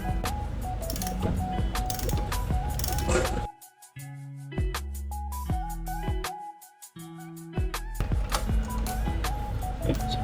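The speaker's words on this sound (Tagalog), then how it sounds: "kailangan natin ng 12mm socket wrench" A 12mm socket wrench ratchets loose the brake caliper bolts on a Suzuki Burgman 125 scooter, rapid clicking pawl bursts with metallic ringing, close up, broken by short pauses between turns.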